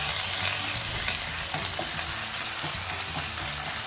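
Ginger garlic paste frying in hot oil after onion paste, a loud, dense, continuous sizzle with occasional soft stirring scrapes, close and steady throughout.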